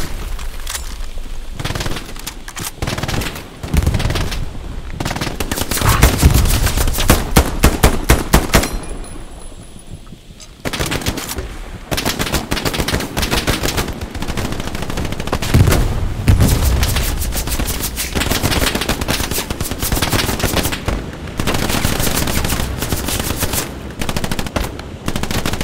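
Loud, sustained automatic gunfire and bursts of rifle shots from the World War II shooter game Hell Let Loose, with booming impacts, a brief lull near the middle, then renewed heavy firing throughout.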